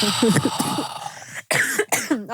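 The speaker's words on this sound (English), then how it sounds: "Can I cough first?" A couple of sharp, close coughs burst out after a stretch of voices talking, loud and abrupt against the chatter.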